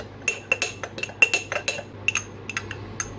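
A spoon clinks repeatedly against a bowl while stirring a mixture to dissolve it, giving a close series of bright, irregular taps with short pauses between, no voices.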